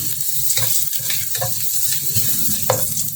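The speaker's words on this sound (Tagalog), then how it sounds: "Napakabango talaga pagka yung luya ang ginigisa." Ginger sautéing in a pan for a mussel and vegetable dish, a loud, close, steady sizzle with a series of spatula scrapes and stirring clacks, no one speaking.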